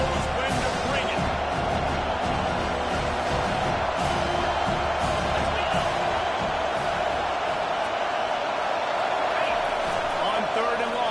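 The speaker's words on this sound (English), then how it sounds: "This crowd knows when to bring it." A college football stadium crowd roars steadily throughout, a dense continuous wall of cheering with a commentator talking over it.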